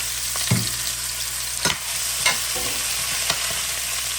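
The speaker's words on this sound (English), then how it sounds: "I like to saute them and turn it on high heat" Sausage and potatoes sautéing over high heat for gumbo, a constant loud sizzle broken by a few scraping stirs and soft knocks of a utensil against the pot.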